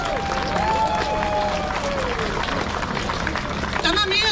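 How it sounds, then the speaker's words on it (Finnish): An outdoor political rally crowd in Finland applauds loudly and continuously, with whoops and shouts from people nearby mixed into the clapping. "Antakaa itsellenne aplodit"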